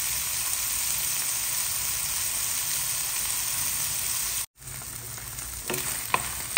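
Bitter gourd (ampalaya) frying in a pan for ginisang ampalaya, a loud continuous hissing sizzle, briefly cut off, then resuming with a few light utensil taps.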